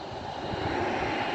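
Airliner taking off at an airport, a Cyprus Airways jet, heard as a steady broad engine roar with a swell at the very end; no talk over it.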